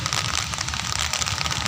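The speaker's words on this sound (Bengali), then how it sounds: "কিন্তু এদিকে ক্রমাগত বৃষ্টি।" Steady rain falls around people sheltering under an umbrella on a wet morning, a dense, even hiss and patter close by with no break.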